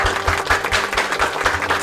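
Audience applause at a Vietnamese Catholic Sunday gathering: steady, dense clapping from a crowd, with faint music underneath for the short stretch.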